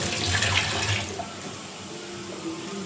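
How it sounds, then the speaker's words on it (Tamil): A kitchen tap runs as hands are rinsed under it after salting a dish, giving a steady close splash that is louder at first and then settles to a softer, even flow with no talking. "கை கழுவிட்டு"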